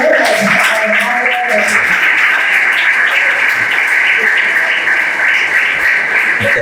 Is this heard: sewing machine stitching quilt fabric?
no